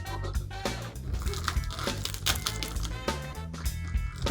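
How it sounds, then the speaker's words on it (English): Knife cutting through the crackling skin of a Cebu-style roasted pork belly roll (lechon), a close run of dry crunching and crinkling snaps with no talk. "Can you hear that? So crispy!"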